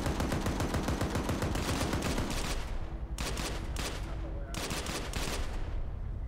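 Rapid automatic gunfire and bursts of shots in a World War II-style multiplayer shooter, dense and loud at first, then continuing in clustered volleys with brief lulls, with voices talking over the firing.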